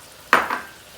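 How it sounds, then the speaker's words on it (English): A spoon scrapes through a pan as cumin, coriander, cayenne and salt are stirred into a pork and spinach curry. It is one short, close scrape with a faint sizzle after it. "Stir that around."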